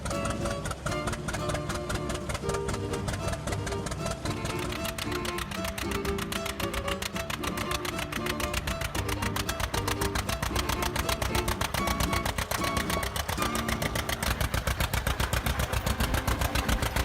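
A 40 HP crude oil engine with a flywheel runs nonstop, its rapid, even chuffing exhaust beats mixed with grinding friction and mechanical clatter, loud and close.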